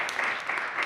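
An audience applauds to welcome the speakers at a talk on coalition building, with a dense, steady clatter of clapping throughout the moment.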